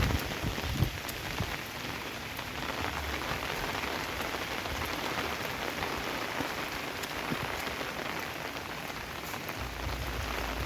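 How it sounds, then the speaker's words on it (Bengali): Heavy, continuous rain falls steadily on surfaces in a village, a dense, even patter that holds from start to finish. "কাল সন্ধ্যে 6টার থেকে এক নাগাড়ে বৃষ্টি শুরু হয়েছে, এখনও থামার কোনো নাম নেই।"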